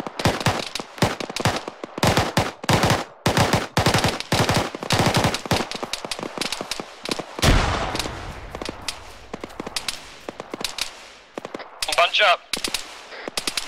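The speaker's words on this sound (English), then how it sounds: "Taking fire from the compound." Dense bursts of automatic rifle and machine-gun fire rattle through an Arma 3 firefight, in rapid volleys with short gaps, as players' voices call out over the shooting.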